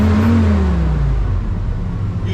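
A car engine revving close by in a garage during a cab corner repair, a loud throaty rev that rises and then falls back to a rumbling idle.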